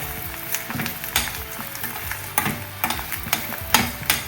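Garlic, ginger and curry leaves sautéing in a pan for a green apple and date pickle, a steady close sizzle broken by repeated stirring clatters and scrapes.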